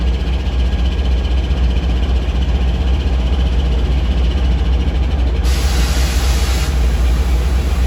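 Diesel locomotive engine running steadily as it moves away after an engine change at a rail yard, a loud continuous drone with a hiss of air joining partway through.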